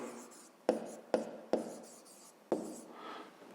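Pen writing on paper during a fifth-grade math exercise, soft scratchy strokes broken by several sharp taps as the pen touches down, close and quiet with no talk.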